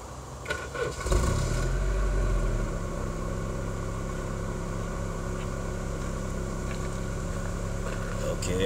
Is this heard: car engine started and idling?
yes